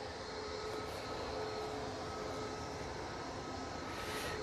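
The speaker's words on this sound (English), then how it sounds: "And there is the Virgin Atlantic A350 1000" A Virgin Atlantic Airbus A350-1000 arriving at Manchester Airport from Orlando gives a steady, distant jet roar with a broad hiss, faint and even throughout.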